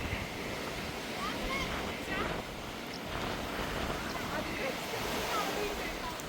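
Sea surf washing against the cliffs at Downpatrick Head as the tide rises, a steady broadband roar with wind buffeting the microphone throughout.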